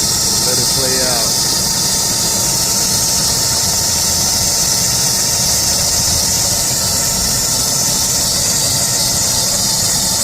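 A belt tensioner squeals loudly and steadily on the running engine of a 2003 Lincoln Navigator, a piercing whine over the idle rumble that continues the whole time.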